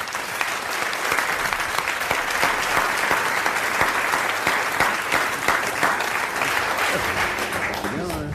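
A studio audience at a 1982 French television game show breaks into sustained, dense applause, loud and even throughout, with a voice briefly audible beneath the clapping.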